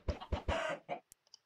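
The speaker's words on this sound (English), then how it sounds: "it's got a chicken farm, which is pretty cool" Chickens on a Minecraft skyblock chicken farm give several short, close clucks in quick succession, followed by a few faint clicks.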